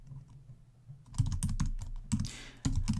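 Someone types code for an Android app on a computer keyboard, a close burst of uneven key clacks that starts after a short quiet pause and speeds into a rapid patter.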